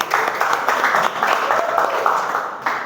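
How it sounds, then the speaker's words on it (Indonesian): Brief applause from a small group of students in a classroom, a light patter of clapping lasting a few seconds, fairly close. "Kasih tepuk tangan untuk kelompok 2."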